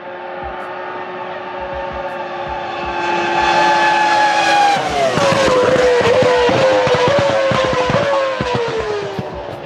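A Renault V10 Formula 1 engine screams loud and close with a high-pitched, steady note that climbs in pitch, then shifts into a harsher, crackling howl as revs fall and rise again.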